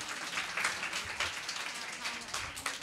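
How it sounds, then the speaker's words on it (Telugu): An audience claps together at a church event, a soft, distant patter of hands with some voices mixed in. "క్లాప్స్ కొట్టండి ఒకసారి"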